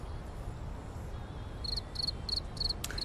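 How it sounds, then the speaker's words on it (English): Crickets chirp in a nighttime scene in Microsoft Flight Simulator 2024, a faint, steady series of short, evenly spaced trills over a low ambient hum, with no talking. "There's the crickets."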